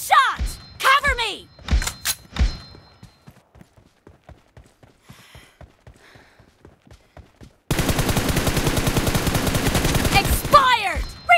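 Gunfire in a PUBG or Free Fire style shooter game, with a few sharp shots up front, a run of quieter regular pops, then a dense loud burst of automatic fire before more single shots.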